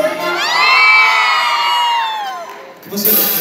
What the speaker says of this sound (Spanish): A ver, chicas, un grito.